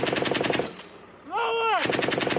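Machine gun fire during a U.S. Marines field exercise in Sweden: rapid, loud, close bursts of automatic fire at the start and again at the end, separated by a short gap holding a brief rising-and-falling tonal whistle.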